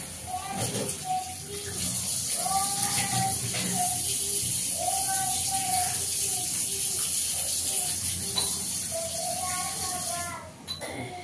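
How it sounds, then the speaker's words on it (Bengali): Tap water runs steadily over boiled noodles in a strainer in a home kitchen, a continuous rushing hiss while a voice talks over it throughout. "আর জলটাও খুলে দিলাম যাতে জলটা সঙ্গে সঙ্গে ঠান্ডা হয়ে যেতে পারে।"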